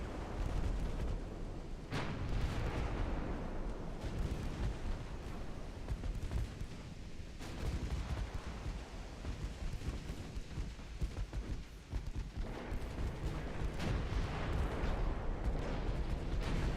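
Naval guns firing shells in a naval combat video game, a dense rumbling barrage of booms and blasts layered continuously with louder thumps scattered throughout, no talk.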